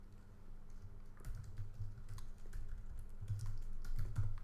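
Computer keys clack in short, uneven bursts as a file name is typed into a save dialog in Camtasia, soft and close, with brief gaps between keystrokes.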